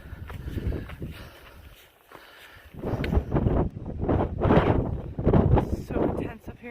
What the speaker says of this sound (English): The wind's been pretty rough.